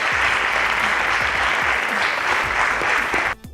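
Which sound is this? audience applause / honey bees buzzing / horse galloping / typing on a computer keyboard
audience applause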